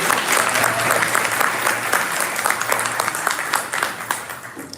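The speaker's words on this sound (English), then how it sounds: "give yourselves a round of applause for being here" Steady applause from an audience at a Black History Month fireside chat, dense continuous clapping at moderate loudness for the full stretch with a hint of crowd murmur.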